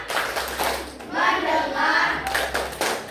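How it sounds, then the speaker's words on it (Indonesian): Schoolchildren in a seventh-grade Indonesian class perform the 'tepuk fokus' clap routine, a rapid run of rhythmic hand claps mixed with their chanting voices, loud and close throughout. "Mulai. Tepuk fokus."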